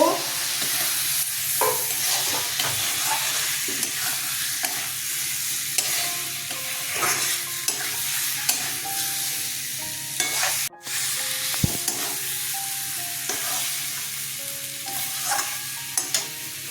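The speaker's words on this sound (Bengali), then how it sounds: "দেখুন আলুগুলো ছেড়ে দেব," Potatoes frying and being stirred in spiced masala for a Bengali bata fish curry with tomato and green chilli, sizzling steadily with repeated stirring scrapes and clinks throughout, close and fairly loud.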